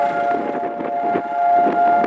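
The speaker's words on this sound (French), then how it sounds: "à Jérusalem, le temps s'arrête quand retentissent les sirènes" Civil defense sirens sound across Jerusalem on Holocaust Remembrance Day, a steady sustained wail held at even pitch throughout with no break and nothing else audible over it.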